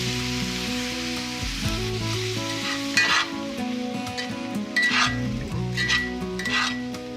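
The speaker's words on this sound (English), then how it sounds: "Our ginger and garlic goes in. And just give that a toss around, maybe 4 or 5 minutes until everything's nice and soft" Ginger, garlic and pineapple frying in a pan for pineapple jalapeno hot sauce, a continuous loud sizzle broken by several bursts of stirring and tossing.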